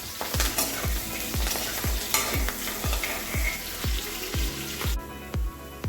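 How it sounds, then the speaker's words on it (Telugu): Onions with curry leaves frying in a pan until reddish brown, a loud steady sizzle punctuated by regular rhythmic thumps of stirring, roughly two per second. "ఉల్లిపాయలు అనేవి కలర్ చేంజ్ అయ్యేంత వరకు వేయించుకోవాలి."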